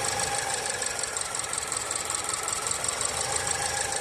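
A 2013 Land Rover Evoque engine idling and misfiring with ignition coil 4 unplugged, a steady rough knocking drone with a hissy, uneven rhythm, close by and heard alone.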